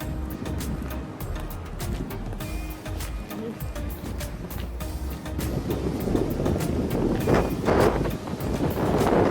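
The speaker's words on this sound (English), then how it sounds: "Well, it is very windy today" Strong wind roars and buffets the microphone continuously, building louder in the second half, with faint voices partly buried underneath.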